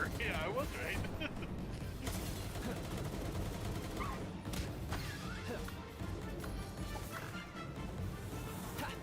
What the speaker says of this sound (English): This is a time for submachine gun